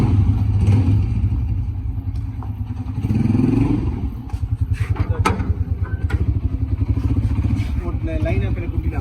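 A motorcycle engine runs close by at night, starting as a rough rumble under people talking, then settling into a steady, rapid chugging beat over several seconds.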